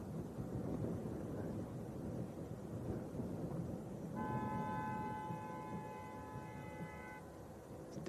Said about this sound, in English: Definitely a louder horn than I used to have.